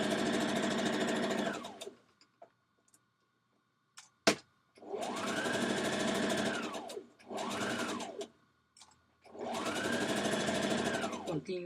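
Sewing machine stitching the side seam of a Vogue pattern dress, running in several steady bursts that rise and fall in speed, separated by quiet pauses and a sharp click.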